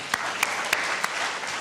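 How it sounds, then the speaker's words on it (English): A handful of separate, sharp claps ring out in a hall at a youth awareness conference, spaced unevenly over a low background hiss. "A round of applause for yourself."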